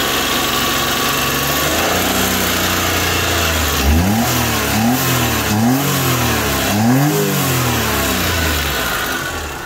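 A car engine revving repeatedly after a tachometer install, a steady idle rising into several rhythmic throttle blips that climb and fall, loud and close, with no talk.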